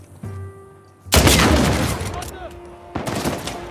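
Two loud bursts of gunfire in the video game Uncharted 4, the first a heavy blast with a decaying tail, the second a shorter crack near the end, with a voice speaking alongside.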